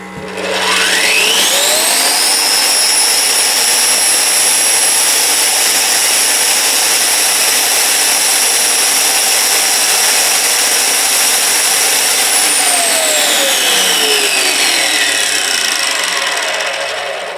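A BIHUI 1200 electric tile cutter with soft start spins up, its motor whine rising smoothly to a steady, loud high-pitched hum that holds for about ten seconds before winding down, with no talking.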